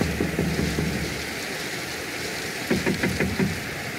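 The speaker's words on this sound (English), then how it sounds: "Outside, the persistent typhoon was raging." Heavy typhoon rain pours steadily, a dense hiss of raindrops on surfaces with scattered louder patters and drips, continuous and fairly close, with no voices.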